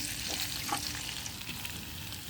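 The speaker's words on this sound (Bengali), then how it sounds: "এটা গরম হয়ে গেছে, আমি দিয়ে দিচ্ছি আদা ও রসুন বাটা।" Ginger and garlic paste dropped into hot oil for a chicken curry, a soft steady sizzle and crackle with light stirring scrapes, fairly quiet and close.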